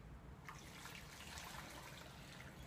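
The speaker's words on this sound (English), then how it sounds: "Now I'm adding in hot water here just to make the process a little quicker." Hot water pours steadily into a slow cooker, a continuous soft splashing trickle that runs close and fairly quiet for the whole stretch, with no talking.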